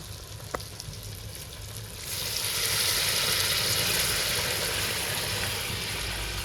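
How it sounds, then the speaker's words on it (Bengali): Hot water poured into a pan of frying meat cooking with elephant foot yam sets off a loud, sustained sizzle that swells suddenly after a quieter frying start and stays up close without talk. "এবার গরম জল দিয়ে দেবো"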